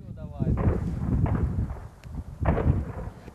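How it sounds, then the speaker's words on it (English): Russian soldiers on a Ukrainian front line fire back at an enemy scouting party, two heavy booming bursts of outdoor gunfire, fairly close, with a pause between them. "An enemy scouting party is spotted. The Russians shoot back."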